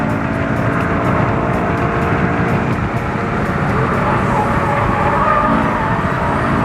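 A repossessed Honda Accord Euro R drives quickly through a section of road on a long road trip, engine and road noise loud and steady throughout, with a siren-like tonal whine riding over the roar and no talking.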